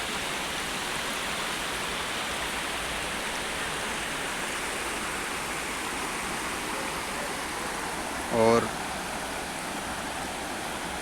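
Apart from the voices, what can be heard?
Amjhara waterfall rushing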